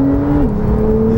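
Porsche 911 C4S on Southern California canyon roads, a loud, steady engine drone heard from inside with the pitch dipping slightly as it shifts, running continuously.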